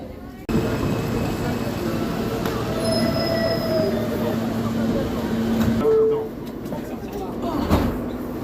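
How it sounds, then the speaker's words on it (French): A subway train rumbles steadily nearby at a metro platform, with faint metallic squeals from the wheels and a voice speaking over the noise. "Et donc là on attend le métro."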